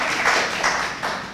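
An audience claps at a public listening session, a brief burst of fairly loud applause with a few swells, close to the microphone and with no talk over it.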